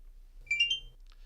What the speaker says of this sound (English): because I reversed the polarity, we get the beep, the happy noise